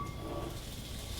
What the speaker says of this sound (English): I'm gonna drop some butter in here.